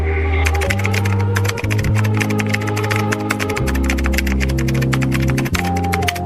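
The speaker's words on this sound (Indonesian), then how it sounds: "Naskah proklamasi yang ditulis manual oleh Soekarno dan bantuan dari Hatta, Ahmad Subarjo, Soekarni pun segera diketik oleh Sayuti Melik." A typewriter clacks in a rapid, steady run of keystrokes as the handwritten Indonesian independence proclamation manuscript is typed up, set over a loud, sustained musical drone that shifts pitch a few times; no one speaks.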